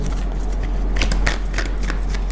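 Tarot cards being shuffled, a loud, continuous riffling and flapping of the deck close up, with no talk over it.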